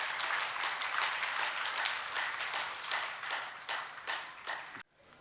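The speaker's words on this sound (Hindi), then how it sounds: "तालियों से स्वागत।" An audience claps in welcome during a Hindu devotional recital of the Devi Bhagwat Katha. Rhythmic, fairly close applause runs for about five seconds, then stops abruptly into near silence.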